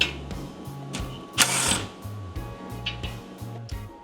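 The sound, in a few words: removing 13mm bolts from Mercedes Sprinter front cross brace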